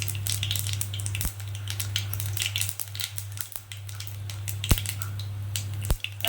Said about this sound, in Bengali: জিরে ফোড়ন দিলাম, গোটা জিরে অল্প করে ফোড়ন দিলাম